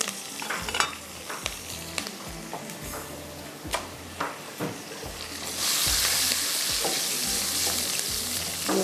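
Ingredients fry in a pan while a utensil stirs them, giving sharp, regular scraping knocks over a low sizzle, before the sizzle swells into a loud, steady hiss in the second half.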